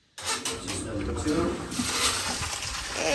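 Water rushing out of a swimming pool filter set to backwash, beginning abruptly and continuing as a steady, loud, broadband gush.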